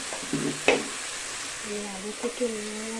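Loitta (Bombay duck) fish rubbed with salt and turmeric goes into a spice paste frying in oil, giving a soft sizzle with a sharp clatter and a few brief scraping stirs and squeaks.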